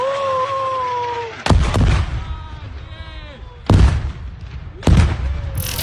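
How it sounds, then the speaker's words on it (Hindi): Heavy bombardment of the Marinka area during the war in Ukraine, captured in news footage: three sharp, loud blasts with rumbling tails, spaced a second or two apart, following a brief opening stretch of voice and tonal sound. "रशिया ने मैरिंका के इलाके पर जबरदस्त बमबारी"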